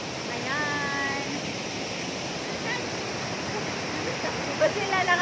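AWAO waterfall in Monkayo rushes in a steady, loud broadband roar of falling water, with faint voices mixed beneath the constant wash.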